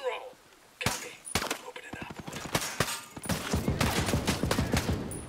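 Rapid bursts of gunfire in the shooter game Ghost Recon: Breakpoint, with sharp volleys and clustered automatic shots that crack out in quick succession over several seconds while players talk over the action.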